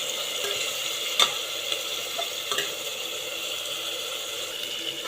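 Four medium-sized tomatoes frying in a pan for mutton biryani, a steady close sizzle with a few soft stirring knocks and clicks.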